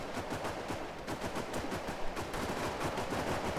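Rapid automatic gunfire from a squad firefight in the military shooter game Arma 3, dense bursts of shots crackling continuously at moderate distance with no talk.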